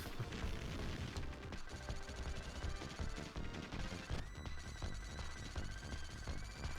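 Dense, continuous explosions and gunfire from the Sega Genesis game Contra: Hard Corps, with layered booms and rapid shots over game music, fairly quiet overall.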